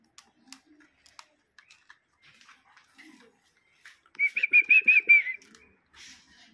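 Caged doves kept out of the cold wind on a winter morning make scattered soft rustles and taps, then a short, close burst of fluttering wingbeats before settling again.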